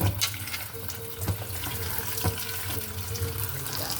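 Water pours and splashes into a cooking pot nearby for steaming saba bananas, a running trickle with a few clinks and knocks of metal underneath.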